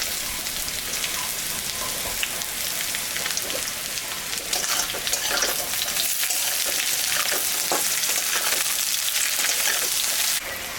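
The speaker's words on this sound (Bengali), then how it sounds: "আলুটা ভাজা ভাজা হয়ে গেছে, এখন আমি এই যে পেঁয়াজ কাটিয়ে রাখছি এটা দিয়ে দিলাম।" Sliced onions hit fried potatoes in a hot pan of oil and sizzle steadily and loudly throughout, a dense crackling hiss with small scraping stirs and no talk.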